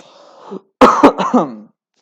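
A few harsh throat-clearing coughs close by, coming in a quick burst after a brief murmur, then silence.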